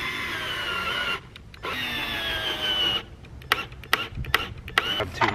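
A power drill drives screws into a wooden firewood rack, with two sustained whirring runs broken by short pauses, then a burst of quick knocks and clicks near the end.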